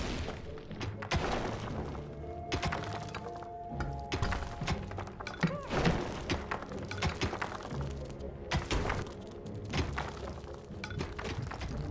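In the Dungeons 3 video game, temples are torn down amid a dense, continuous clatter of thuds, cracks and crumbling impacts that rise and fall over steady background game noise.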